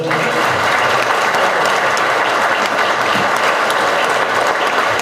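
Dense, steady applause from an audience at a departmental council session, a continuous crackling clatter of many hands clapping throughout.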